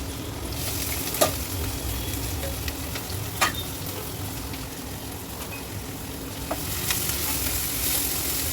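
Onions and green chillies frying in hot oil for a chicken curry, a steady close sizzle running throughout with a few sharp stirring scrapes and clicks.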